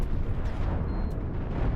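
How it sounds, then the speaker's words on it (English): Mines exploding against ships in the space combat game Cosmoteer make a dense, continuous low rumble of overlapping blasts that stays steady throughout, with no talk over it. "you see how the mines explode?"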